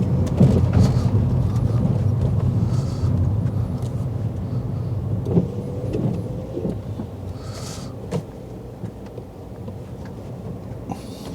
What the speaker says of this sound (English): Let's go down the gears.